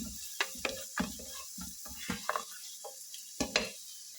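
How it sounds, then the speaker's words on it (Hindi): Cauliflower manchurian stir-fries in a pan, a soft sizzle punctuated by a series of sharp spatula scrapes and clacks in an irregular rhythm, close and alone without talk. "अभी इसको आप मिक्स कर दीजिए, थोड़ा सा फ्राई कर दीजिए"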